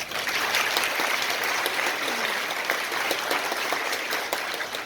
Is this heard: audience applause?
yes